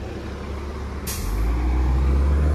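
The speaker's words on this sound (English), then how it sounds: "It's very interesting just to get the buses going in and out." A diesel transit bus at Kipling Station in Etobicoke, Toronto, idles with a low rumble until a sharp air-brake hiss bursts out, after which the engine swells into a louder, heavier drone.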